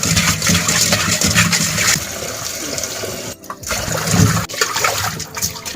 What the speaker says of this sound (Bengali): এখন আমি মাছে লবণ দিয়ে মাছটা ধুয়ে নেব।